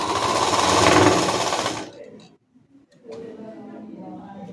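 An electric sewing machine stitches the front collar of a blouse in a close, loud continuous whir for about two seconds, stops, and a voice then talks quietly with faint handling sounds.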